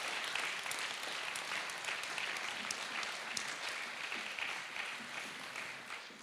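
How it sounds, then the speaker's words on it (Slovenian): An audience at a Slovenian Culture Day ceremony in Krško claps in steady, even applause, a dense wash of many hands that holds for several seconds without cheering. "Žal, ja, zaploskajmo, ker sem povabila, da bi zaploskali."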